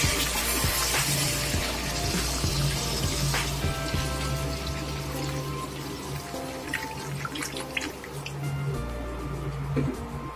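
Water poured into a pan of fish curry with potatoes and jackfruit seeds, a steady splashing gush with bubbling and clinks, fairly close and continuous throughout.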